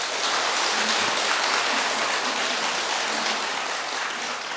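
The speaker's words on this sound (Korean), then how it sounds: "박수 한번 보내주세요." Audience applause at a Buddhist monk's Dharma talk in Korea, a dense, steady clapping that fills the room for several seconds at even loudness with no speech over it.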